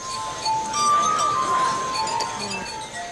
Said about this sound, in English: It's just simply wet fingers, human flesh on glass.